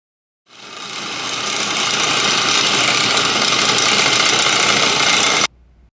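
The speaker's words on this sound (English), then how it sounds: "And then I'll let you hear the sound of the machine, again, fully loaded." A fully loaded vibratory lap machine starts up abruptly and runs as a dense, loud rattling buzz for about five seconds, then cuts off sharply.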